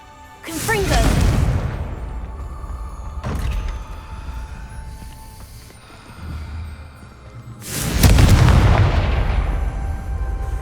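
A Confringo blasting spell explodes in a maze in the video game Hogwarts Legacy. Several heavy booms and bursts come with rumbling decay, and spoken lines and spell incantations are heard between them.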